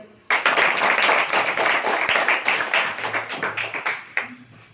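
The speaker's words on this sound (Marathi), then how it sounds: "जोरदार टाळ्या तेवढी पुन्हा एकदा." Audience at a motivational lecture bursting into loud, close applause, a dense clatter of many hands that swells quickly, holds, then thins into scattered claps.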